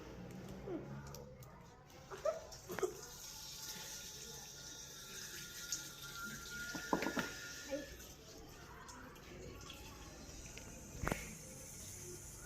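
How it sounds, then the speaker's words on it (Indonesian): Water being poured from one container into another in a classroom demonstration makes a soft, steady trickle with a few small knocks, while faint voices murmur in the background. "Coba kita melakukan pemindahan air ke wadah."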